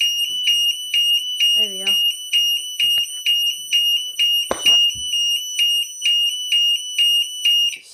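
An AG6 burglar alarm with strobe and siren sounding up close, a loud piercing tone pulsing in a fast regular on-off rhythm throughout, with a brief spoken remark and a couple of clicks partway through.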